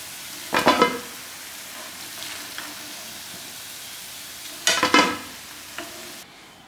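Rice rolls fried in a pan and turned over, giving two loud bursts of sizzling and scraping stirs about four seconds apart, with a quieter crackle of hot oil in between.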